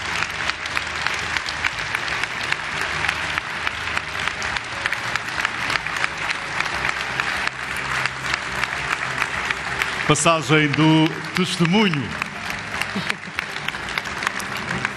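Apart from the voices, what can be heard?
audience applause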